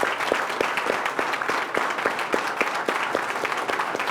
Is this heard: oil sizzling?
no